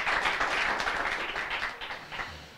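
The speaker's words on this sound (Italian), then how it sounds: "Noi, la nostra bocca, facciamo forte questo applauso a Gesù." Applause from a church congregation at an evangelical revival meeting in Puglia, a dense, steady wash of many hands clapping that thins slightly toward the end, with no clear talk over it.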